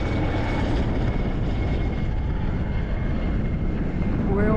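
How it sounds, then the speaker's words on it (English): Military helicopter flying low over mountain summits, a loud, steady rotor and engine roar close by, filling the whole stretch without a break. "I've never seen a military helicopter that low."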